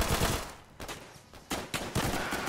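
Enemy rifle fire in the shooter Frontline Karelia, set at Yläsäiniö's railway station: several sharp, close shots in quick bursts with a short gap between them, no voices over the shots.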